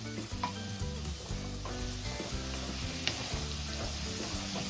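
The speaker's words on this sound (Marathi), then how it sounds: "इथे आपण शिमला मिरची घालून घेऊया आणि शिमला मिरचीला देखील छान लालसर करून घेऊया." Onion and capsicum frying for pav bhaji, sizzling loudly and steadily in the pan with repeated rhythmic stirring scrapes, close up and with no talk.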